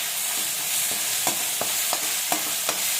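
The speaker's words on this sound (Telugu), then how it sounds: "ఇట్లా లివర్ వేసిన తర్వాత చక్కగా బాగా ఫ్రై అయిపోవాలి." Liver frying in a pan for a gongura liver curry, a continuous close sizzle broken by a handful of sharp, regular scrapes and knocks of a spoon stirring it, with no voices.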